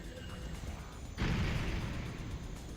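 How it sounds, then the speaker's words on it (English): A loud explosion erupts in a PlayStation game running on a MiSTer, a sudden broadband burst that jumps up mid-clip and sustains with rumbling low end over quieter game sounds. "The explosions are very loud"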